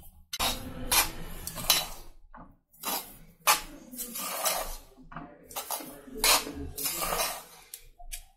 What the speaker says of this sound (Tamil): நான் கிண்டி காட்டுறேன்